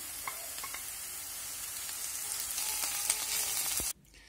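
Onion and bell pepper sauté in olive oil in a pan, a soft continuous close sizzle that stops abruptly near the end.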